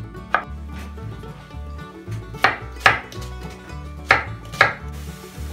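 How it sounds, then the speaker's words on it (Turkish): A knife chops vegetables into cubes on a cutting board in sharp, spaced strokes, six or so irregular hits, close up over a low kitchen hum. "Patlıcanlar pişe dururken sebzelerimizi doğruyoruz."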